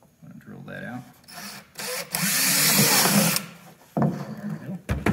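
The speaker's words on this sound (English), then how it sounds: "Looks like 3/16-inch drill is going to work. So I'm going to drill that out." A power drill with a 3/16-inch bit whirs loudly for about a second and a half while drilling a hole in a fifth-wheel camper, with someone talking before and after the burst.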